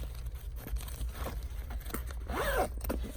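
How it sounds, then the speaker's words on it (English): A zipper on a JuJuBe bag, pulled by its diamond zipper pull, gives one quick rasping run near the end, following quiet rustling handling of the bag. "It opens with the diamond zipper pull"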